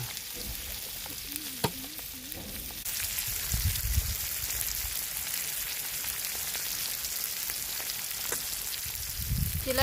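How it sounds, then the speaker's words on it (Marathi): Tilapia fries in oil over a wood-fired stove, with a dense steady crackling sizzle that swells louder partway through, plus a few brief clinks, heard close and without speech. "आता फ्राय झाली चांगली तर काढून घेते मस्त फ्राय झाली कडक पण झाली"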